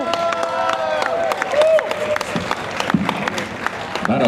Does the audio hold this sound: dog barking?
no